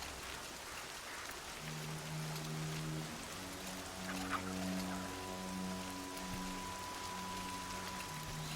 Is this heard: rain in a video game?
yes